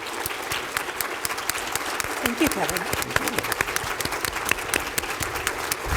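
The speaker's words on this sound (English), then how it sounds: "another round of applause for our panelists" A conference audience gives panelists a round of applause, with continuous crowd clapping throughout while a voice speaks briefly over it.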